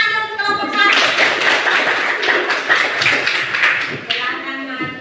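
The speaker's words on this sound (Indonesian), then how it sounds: "Silakan dan tepuk tangan dulu untuk kelompok 1." Classroom audience clapping for the first student group, a dense, steady burst of many hands lasting several seconds before tapering off, with voices mixed in.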